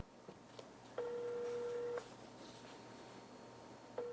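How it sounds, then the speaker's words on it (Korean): A telephone ringback tone sounds while a call is being placed, one steady one-second tone followed by a pause and the start of the next, fairly clear over a faint background hum. "한번 전화 연결을 오늘 한번 해볼까요?"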